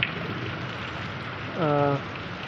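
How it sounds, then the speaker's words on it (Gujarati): Steady rain patters on surfaces, a dense hiss with a brief voice rising over it near the end. "વરસાદની જમાવટ સારી છે"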